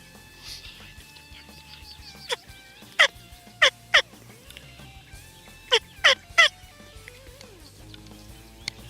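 Several wild turkeys gobble in sharp, rattling bursts, first a cluster of three, then another three after a pause, fairly close over quiet outdoor ambience.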